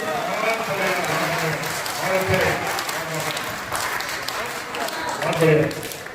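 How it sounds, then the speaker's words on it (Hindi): Audience applause rolls steadily through a hall at a Hindi kavi sammelan poetry recital in Sitapur, with a speaking voice audible over the clapping. "तालियां और थोड़ी उन्मुक्त हो"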